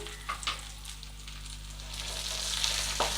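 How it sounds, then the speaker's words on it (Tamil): Onions sautéing in a pan for paruppu urundai kulambu, a steady close sizzle with a few brief stirring scrapes and no voices. "வெங்காயம் நல்லா வதங்கியாச்சு"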